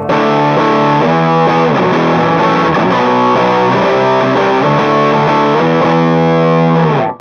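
Distorted electric guitar on the bridge pickup through a Mesa/Boogie JP2C+ amp, playing dense sustained chords and riffs loudly and continuously for about seven seconds with no talk.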